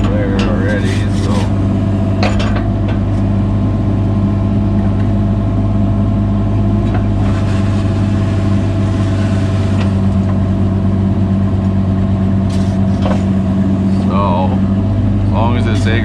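Excavator engine running steadily while digging out sandy material with gravel beneath for a retaining wall footing, a loud, constant low rumble with occasional scrapes and clanks over it.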